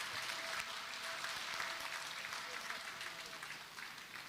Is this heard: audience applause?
yes